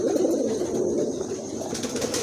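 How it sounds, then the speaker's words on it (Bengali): Pigeons coo in a dense, continuous murmur, close and moderately loud, with soft rustling and no speech. "চমৎকার এক জোড়া কবুতর আছে"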